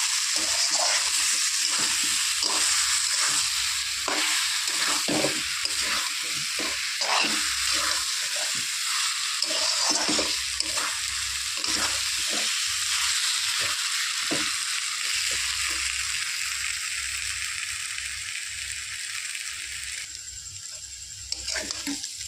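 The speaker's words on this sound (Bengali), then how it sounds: "সমস্ত মশলা দিয়ে ভালো করে কষিয়ে নেব।" Spices with chili powder fry in hot oil for a potato and pointed gourd curry, giving a continuous loud sizzle broken by repeated scraping strokes of a spoon stirring the pan, with no talk.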